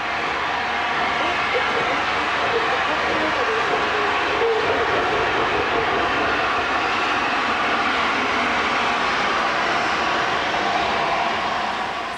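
A steady, loud rumble of a steam train hauled by a Class A2 Pacific locomotive rolling past, continuous mechanical roar with no distinct breaks, heard from nearby.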